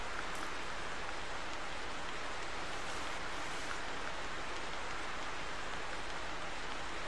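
Rain in the hunting video game theHunter, a steady, dense hiss of falling rain that continues evenly throughout with no talk over it.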